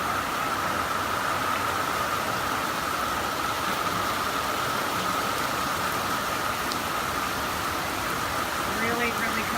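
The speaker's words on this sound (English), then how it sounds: "Here comes another lot of rain that's just" Heavy rain from Cyclone Debbie in 2017 pours down in a dense, constant hiss on a roof, loud and unbroken throughout, with a faint hum beneath and no clear speech.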